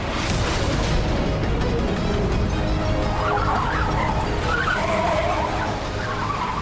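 A car approaches with a loud, steady rush of engine and road noise, ending in a rough skidding scrape of tyres as it comes close.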